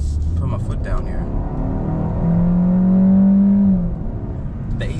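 A 2021 Kia K5 EX sedan's engine climbs in a steady, rising drone under full throttle, then eases off, heard close and loud throughout.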